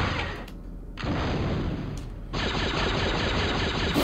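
Blaster fire from the Star Wars Episode I video game comes in dense rapid volleys. Two brief lulls break the loud, continuous shooting.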